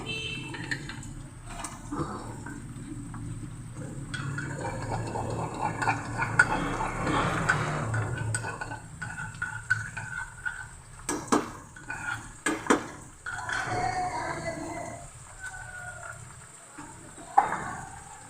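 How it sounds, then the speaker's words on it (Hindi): Garlic is stirred into a pan of chicken for a chicken and white chana curry, giving steady scraping and clinking of a utensil against the pot with a soft sizzle underneath, a few sharper knocks standing out near the end. "अब मैं इसमें लहसुन ऐड करूँगी।"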